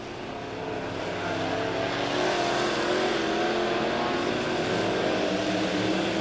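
USRA B-Mod race cars roar around Lebanon Midway Speedway in a heat race, their engine drone swelling as a pack passes and holding loud and steady from a distance.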